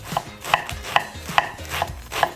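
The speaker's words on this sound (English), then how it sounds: "Just shred some iceberg lettuce." A knife shreds iceberg lettuce on a cutting board in six crisp, evenly spaced chops, each with a sharp crunchy snap, close and clear with no talking.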